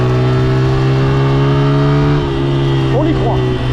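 A car engine labors uphill on a Paris street, its steady drone jerking and surging as it pushes and bucks under acceleration, with voices talking over it near the end.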